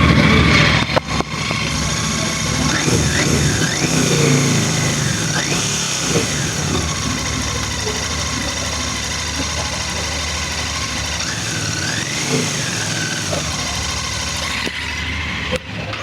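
A Royal Enfield Bear 650 motorcycle engine starts and settles into a steady, rumbling idle that runs close and loud for the whole stretch, with people talking over it at times.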